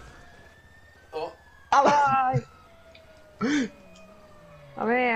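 Police car siren wailing in the GTA video game, a rising-and-falling electronic tone running faintly underneath, broken up by bursts of game noise and people talking over it.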